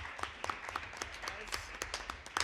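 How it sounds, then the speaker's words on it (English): Scattered clapping from a small audience at a university debate exhibition, a steady patter of individual claps at moderate volume with no voices on top. "one last round of applause for our debaters today"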